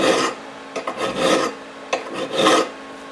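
Hand file rasping across a metal part for a homemade overhead-valve Briggs engine: four close, rough strokes of uneven length, alone and without talk.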